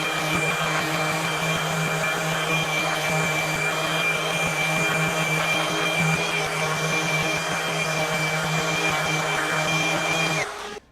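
Continuous whining hum of a cordless FLEX FX3411 24V brushless 5-inch random orbital sander with a dust vacuum running, steady and close, cutting off abruptly at the end.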